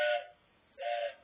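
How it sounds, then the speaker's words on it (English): A vintage toy train whistle is blown twice in quick succession, two short, breathy, bright tones separated by a brief pause, close and clear. "Vintage train whistle."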